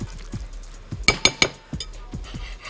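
Béchamel sauce stirred in a pan with a spoon: a few soft scraping strokes, then three sharp metallic clinks against the pan in quick succession, followed by more faint scrapes, close and quiet.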